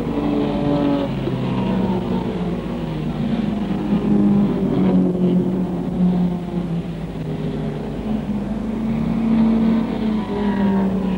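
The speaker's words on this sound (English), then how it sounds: "Gurney gets going again, but only to tour round to his pit for a change of footwear on the Galaxy" A Ford Galaxie race car drives on a 1963 racing circuit in wet weather, its engine droning steadily and fairly close with gentle rises and falls in pitch, heard alone without voices.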